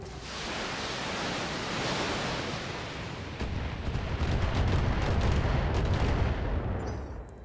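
Mech weapons fire in the BattleTech video game: a roaring wash of missile and gunfire with dense crackling bursts, swelling louder halfway through before tapering off, no voices heard.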